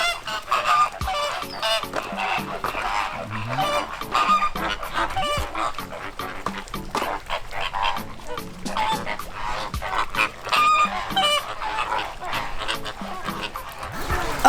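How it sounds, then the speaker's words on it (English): A goose honks repeatedly and loudly at close range on a wildlife park visit, the harsh calls coming in rapid bursts with some background chatter. "Oh no, the goose!"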